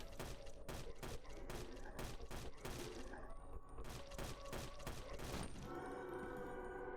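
Rapid gunfire in the survival horror game Lake Haven -Chrysalis-, a dense string of sharp shots fired in quick succession for about five seconds, followed by a lingering ringing tail, with no talk over it.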